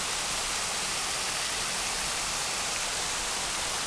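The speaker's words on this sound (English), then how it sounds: "There's their waterfall." Waterfall pouring into a creek on a farm, a steady broadband rush of falling water, loud and constant throughout with no voices.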